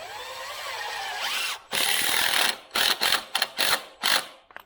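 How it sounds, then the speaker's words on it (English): A power drill drives a screw into a wooden raised garden bed planter box, first as a long steady whir and then as several short bursts of loud, close driving with brief pauses between them. "I'm going to run me a screw in here."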